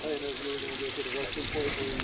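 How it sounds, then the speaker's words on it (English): Steady crackling sizzle of fiddleheads frying in a pan, continuous and fairly close, with a voice talking faintly underneath. "Come try some fiddleheads. Still sizzling."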